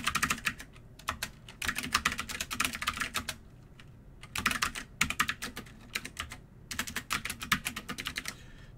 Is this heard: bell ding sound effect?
no